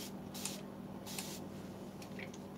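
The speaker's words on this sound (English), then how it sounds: "I'm going to take my mister and I'm going to spray all those little areas that I just did the gold on." A hand mister spray bottle spritzes water over gold-painted areas of distressed kitchen cabinets, giving two short, close hissing bursts with a quieter third puff, over a steady low hum.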